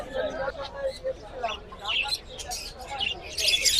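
Small birds chirp and tweet in scattered bursts at the Fattulla village bird market, with a murmur of crowd babble underneath throughout.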